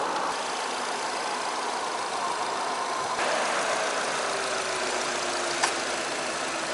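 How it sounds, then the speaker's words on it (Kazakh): A 2-litre, 140-horsepower all-wheel-drive Nissan Terrano engine idles with a steady, even drone, joined partway through by a faint falling whine and a single sharp click near the end; no one speaks. "Енді қозғалтқыш қарап отырсаңыздар, 2 литр толық жетек 140 аттың күшімен."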